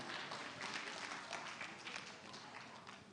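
Audience applause at a W20 Indonesia 2022 conference gathering, a steady dense wash of clapping that holds at full level for a few seconds and then begins to thin and fade slightly.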